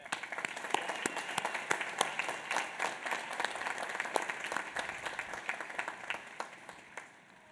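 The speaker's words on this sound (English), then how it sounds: "Please join me in giving them another round of applause." A college commencement audience at Union College applauds the graduates, a broad crowd of clapping with sharp individual claps standing out over a steady wash, sustained then fading near the end.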